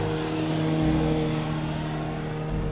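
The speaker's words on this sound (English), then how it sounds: "I'm on a busy road that goes through the peaks." Steady rumble of car traffic on a busy road through the Peak District near Ladybower Reservoir, a continuous low engine drone with vehicles passing close by, no talking.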